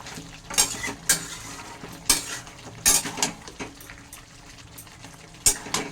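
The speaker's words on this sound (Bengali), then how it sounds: "এবার এটাকে আমি ভালো করে নেড়ে ছেড়ে দিলাম" A utensil clinks and scrapes against a pan as chicken and potatoes with Kashmiri chilli, spices and yogurt are stirred, producing sharp metallic knocks at irregular intervals over a soft background.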